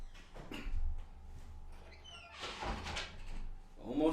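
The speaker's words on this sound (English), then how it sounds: "shut the door." A door is shut indoors in a home during a podcast recording, a couple of soft thuds and brushing knocks with a light latch click, fairly quiet and close.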